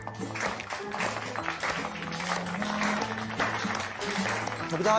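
Applause from an audience in a Georgian TV drama series, a dense continuous clatter of clapping that holds steady for about five seconds with music playing underneath.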